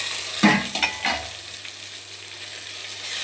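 Mushrooms sautéing with onions in a hot pan with a few scraping stirs at first, then a softer steady frying hiss.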